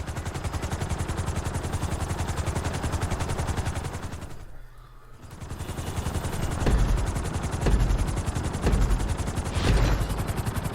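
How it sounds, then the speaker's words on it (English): A helicopter in Grand Theft Auto V, a loud, steady rotor chop that dips briefly in the middle and then returns, louder and with a few heavier thumps. "we're gonna put you in a helicopter for this lesson"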